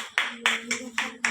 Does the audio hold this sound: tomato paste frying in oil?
no